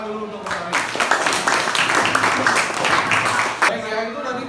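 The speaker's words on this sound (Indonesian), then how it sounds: "tepuk tangan dulu untuk Kari." Students applauding a classmate in a school classroom, a burst of clapping that rises after a moment and fades near the end, with a voice audible over it.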